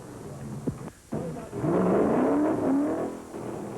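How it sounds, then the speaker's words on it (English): A Hemi-powered 1968 NASCAR Grand National stock car, number 43, races into the pits at Martinsville Speedway, its engine roaring loud and rising in pitch after a brief drop. "that Hemi-powered road missile number 43 screams into the pits"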